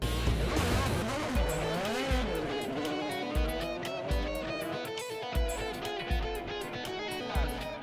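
Ethanol-fuelled race car driving at speed on a track, engine pitch sweeping up and down through repeated gear changes with periodic dips, under a music bed.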